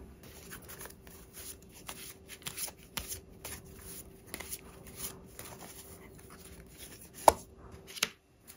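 Tarot cards being shuffled and handled up close, a steady run of soft papery flicks and riffles with a couple of sharper snaps near the end, no voices.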